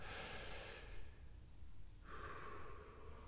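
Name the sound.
breathing out and breathing in again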